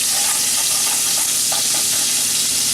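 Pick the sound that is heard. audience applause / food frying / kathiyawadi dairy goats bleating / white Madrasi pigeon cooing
food frying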